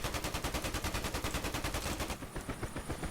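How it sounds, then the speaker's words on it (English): Rapid automatic gunfire in a DCS helicopter combat game, a fast, even string of bursts loud and close for about two seconds, then a brief quieter tail. "I think we're taking some fire here"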